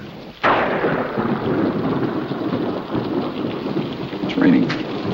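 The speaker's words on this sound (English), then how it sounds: "It's raining." Rain pours steadily as a sudden crack of thunder opens into a low, rolling rumble that lingers under the downpour.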